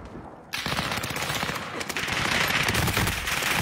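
Rapid automatic gunfire from a multiplayer first-person shooter match, a dense, loud burst that starts abruptly and keeps rattling without pause.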